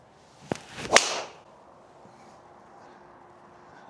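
A Callaway Quantum driver strikes a golf ball with a single sharp, firm crack outdoors, preceded by a faint swish, then quiet.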